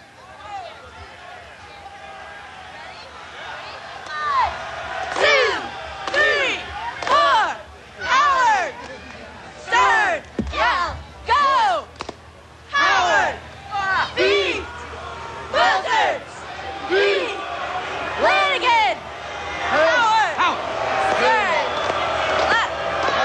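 Cleveland State cheerleaders lead a rowdy cheer, with a series of loud rhythmic shouted chants in bursts, mixed with crowd noise.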